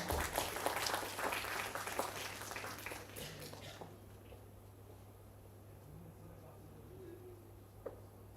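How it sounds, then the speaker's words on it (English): Applause from an audience at a university student induction program, a brief patter of clapping with murmured talk that fades after a few seconds into a quiet hall with low hum. "A round of applause for him."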